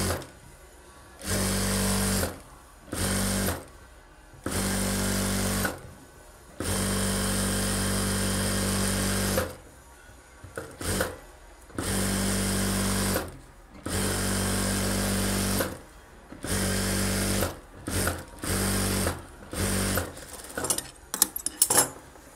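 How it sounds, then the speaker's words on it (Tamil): A sewing machine runs in repeated bursts while stitching the lining of a blouse, a close, loud, steady mechanical whirr that starts and stops a dozen times with short pauses between runs. "அதை கனெக்ட் பண்ணி ஃபுல்லாக ரஃபாக ஒரு 1/4 இன்ச்சு விட்டுட்டு ரஃபாக தையல் போட்டுருங்க"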